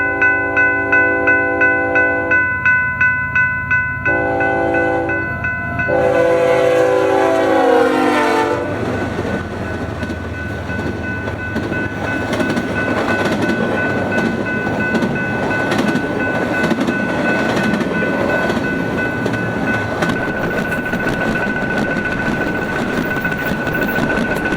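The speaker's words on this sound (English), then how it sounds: "Our next train would be a westbound Q train going about the same speed as the last train with BNSF 7183 leading" BNSF westbound Q freight train led by locomotive 7183, horn chords sounding loudly in repeated blasts before the locomotives and cars roar past close by with steady rumbling and clatter of wheels.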